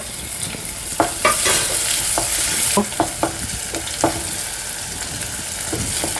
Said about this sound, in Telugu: అల్లం వెల్లిపాయ పేస్ట్ వేసుకుందాం